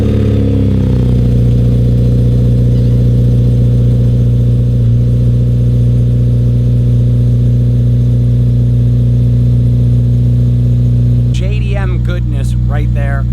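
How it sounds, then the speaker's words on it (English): Cold start of a Honda Integra Type R engine, a loud steady idle drone held close for many seconds, ending in a brief rev near the end. "it's time to do a cold start of the Integra Type R and hit the road."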